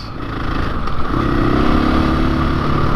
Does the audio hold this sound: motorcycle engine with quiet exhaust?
yes